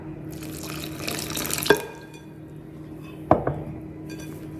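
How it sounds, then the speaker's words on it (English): Room-temperature water poured from a tap into pancake batter in a kitchen, a steady running splash with two sharper knocks of glass or bowl partway through, no talk. "Now we're going to add in room temperature water."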